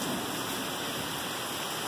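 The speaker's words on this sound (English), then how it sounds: "It just started raining." Heavy rain pours down in a dense, even hiss, a steady close wash of water with no breaks or voices.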